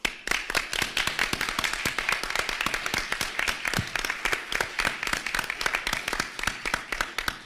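An audience at a disability forum applauds, a long, even run of many sharp handclaps with crisp individual strikes, steady for over seven seconds and fairly close.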